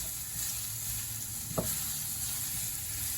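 About a tablespoon of garlic sizzles in a pan with a soft, even hiss, broken once by a single brief tap of a utensil midway; no voices.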